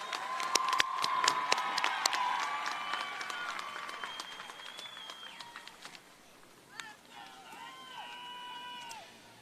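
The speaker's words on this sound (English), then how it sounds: "Let's give our graduates a huge round of applause." A crowd at the 2023 Canyon Springs High School graduation applauds, with sustained clapping and cheering from the audience. Whistles and horn-like tones ring over it, and the applause fades gradually toward the end.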